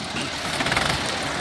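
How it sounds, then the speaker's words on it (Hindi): A Swaraj 735 FE tractor engine runs steadily at close range during a trolley-pulling contest, a dense continuous rumble with a slight pulsing, no voices. "ट्रैक्टर बढ़िया निकला।"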